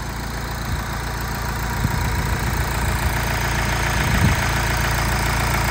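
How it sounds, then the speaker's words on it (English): A VW T5 camper's 2-litre turbo diesel idles steadily under the open bonnet, a close, even low rumble with a faint knocking texture and no talk. "T5 2-litre turbo diesel engine just"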